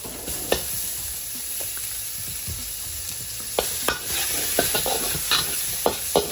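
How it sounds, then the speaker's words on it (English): Aromatics such as garlic fry in oil in a hot wok, a steady close sizzle broken by scattered clicks and scrapes of stirring, with no speech. "Now we're just going to fry off our aromatics."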